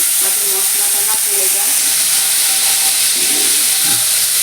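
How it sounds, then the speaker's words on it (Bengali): Water poured onto cumin powder in a hot pan, giving a loud, continuous steamy sizzle and hiss that holds steady throughout with faint stirring underneath. "এর মধ্যে আমি এক চামচ সাদা জিরের গুঁড়ো দিয়ে দিচ্ছি একটুখানি জল দিয়ে দিলাম"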